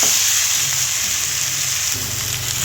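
Boiled banana flower, potato and masoor lentils are stir-fried in a pan, making a loud, continuous, close hiss of frying with no voices.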